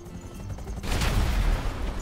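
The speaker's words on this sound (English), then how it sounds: "Why did I explode it so low?" A GTA V in-game explosion erupts partway through, a loud broadband blast that swells and rumbles on for over a second after a quieter lead-in.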